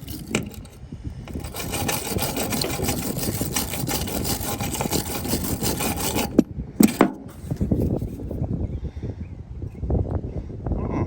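Sanding rust off the electrical contacts of a 1955 Ford F-700 grain truck: a continuous close scraping rasp for about six seconds, a short pause with a couple of sharp clicks, then more uneven rubbing strokes.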